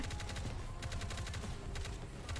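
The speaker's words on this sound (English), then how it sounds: "he's got one of the fucking little dudes shooting" Rapid automatic gunfire from a small helper unit fighting alongside Pascal in the mobile shooter game NIKKE, a dense continuous burst of shots that runs the whole stretch with steady loudness and no talk over it.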